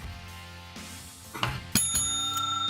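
A bright notification bell sound effect rings out as a couple of sharp metallic strikes, then a sustained shimmering ring over a soft background.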